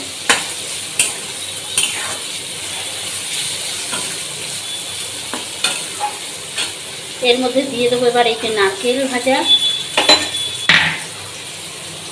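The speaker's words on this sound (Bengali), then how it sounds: "জিরে ধনের গুঁড়ো আর হলুদের গুঁড়ো এটা ভালো করে মিশিয়ে নিতে হবে" Spoon stirring ground cumin, coriander and turmeric in a pan for a traditional Bengali banana-flower dish, with soft scraping and light clinks, and a voice speaking over the second half.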